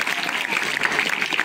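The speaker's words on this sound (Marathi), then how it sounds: "सरांसाठी सुद्धा जोरदार टाळ्या." An audience at a Marathi film promotion event claps loudly and steadily in a dense burst of applause, close and continuous throughout.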